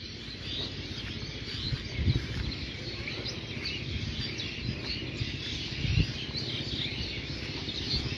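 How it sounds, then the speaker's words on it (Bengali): Many small birds chirp and twitter outdoors in a natural setting, a steady busy chorus of high calls that runs throughout, with no one speaking. "এই যে অনেক সুন্দর কিচিমিচি শব্দ।"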